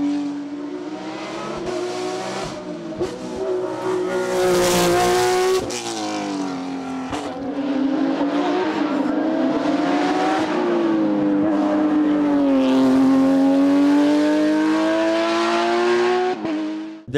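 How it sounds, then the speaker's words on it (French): A Porsche 997 GT3 R race car climbs the Col Saint-Pierre hill course, its engine loud and close, revving hard through gear changes with sustained high-pitched howls over a long run. "Revanchard et ayant retrouvé toutes ses sensations au volant de sa Porsche 997 GT3 R, Nicolas Ververt s'offre certainement"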